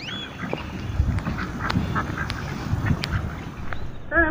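Duck quacking beside a canal, a few short calls scattered through steady outdoor background noise, fairly faint and at a middle distance.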